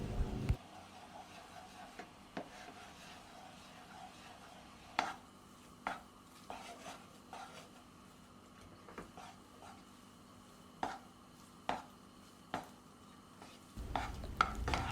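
A spoon works roasted semolina into milk in a pan for rava gulab jamun, giving quiet, scattered scrapes and taps at irregular intervals over a soft, hushed background.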